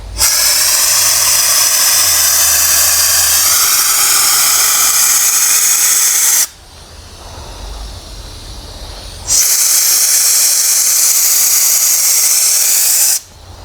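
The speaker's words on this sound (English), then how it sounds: "let's see how this sprays" A spray gun hisses loudly and steadily during work on a wrecked 2023 Ace RV, with two long bursts separated by a short quieter pause.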